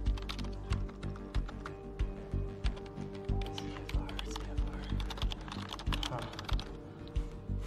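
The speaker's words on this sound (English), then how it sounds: "he knows how to randomly bang on the keyboard" Rapid, irregular keyboard typing in the Quantum Break video game: dense clacking keystrokes with frequent louder bursts, close and continuous throughout.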